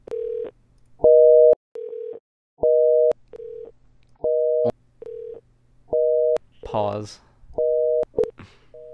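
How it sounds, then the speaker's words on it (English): Telephone busy signal on a call-in line: steady on-off beeping tones alternate between two pitches in a regular rhythm, loud and close, with a brief spoken interruption partway through. "there's literally 3 variations of the line being busy"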